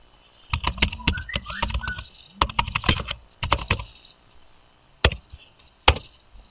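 Keys clatter in quick bursts on a computer keyboard while a web address is entered, with pauses between clusters and a few sharper isolated taps near the end; close and clear, no voices.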